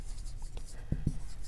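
Pen or chalk scratching out maths on a board during a lecture, two brief taps of the writing tool over a steady room hum, with a faint murmur of voice in the background.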